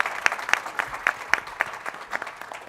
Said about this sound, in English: please give a big round of applause for Ebony K.